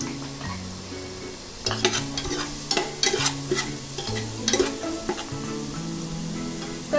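Finely crushed coconut and garlic hitting hot oil in a pan over medium flame, a steady soft sizzle with scraping stirs and occasional clinks of a spoon against the pan.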